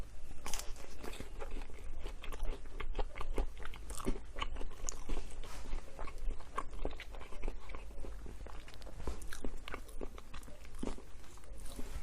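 Someone bites and chews a soft, not crunchy crust of a 15-inch pizza up close, a dense run of wet crunchy bites and chewing clicks with no talking.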